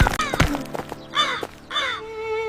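A cartoon crow caws two or three times, harsh and nasal, after a burst of clattering sounds, with a steady tone lingering underneath.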